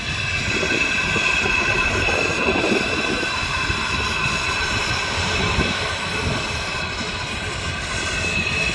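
Several airplanes flying past in formation at the Wings Over Homestead air show, a steady loud engine drone filling the whole stretch with no break.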